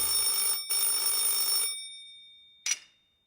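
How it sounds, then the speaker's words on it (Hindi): An old telephone bell rings in two loud bursts with a short gap, then a single brief clang after a pause. "टेलीफोन की घंटी बजी"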